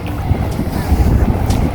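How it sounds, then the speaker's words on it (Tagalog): Strong wind roars steadily across the microphone at a muddy, sandy beach shore, a loud, constant rumbling buffet with no voices. "Lakas ng hangin"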